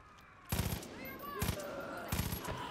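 Bursts of automatic gunfire rattle out in three rapid volleys during Far Cry 5 gameplay, loud against a quieter game background.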